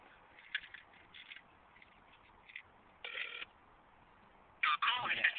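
A voicemail system answers over a narrow telephone line: a faint voice-like murmur comes first, then a louder electronic tone sounds near the end, signalling the start of message recording.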